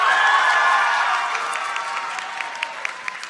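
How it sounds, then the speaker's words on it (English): A concert crowd at the GCU Canyon Challenge applauds and cheers, a dense wash of clapping with some shouts. It sounds loud at first, eases a little, then goes on with scattered sharp claps toward the end. "I love the energy in the crowd."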